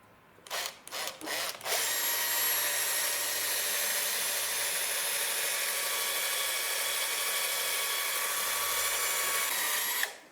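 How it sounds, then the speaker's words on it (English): A power drill with a long bit starts with a few short bursts, then runs steadily at high speed for several seconds, boring through PVC pipe, close and loud, before stopping. "we'll drill a hole from the other side"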